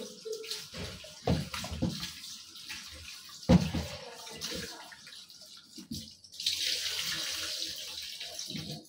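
Water runs from a kitchen tap while fish is rinsed for cooking, a steady splashing stream with bursts of clatter and hand movement, louder and fuller toward the end.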